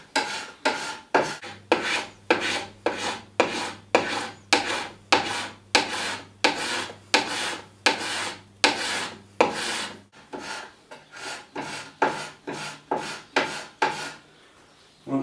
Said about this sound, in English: We're going to just scrape away from ourselves so that we're pushing the P-tex down as well as taking it off.